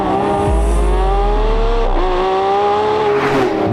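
A Lamborghini Revuelto V12 engine screams at high RPM, a loud sustained tonal wail with shifting pitch, close and continuous throughout.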